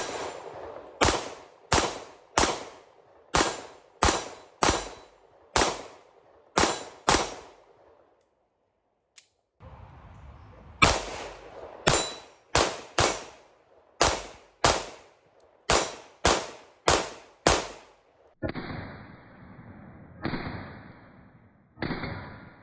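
Sharp gunshots from a CR920 pistol cracking out in two quick strings of about nine and ten rounds, evenly spaced with loud decaying echoes, followed by a rougher rumbling burst at the end; no talking.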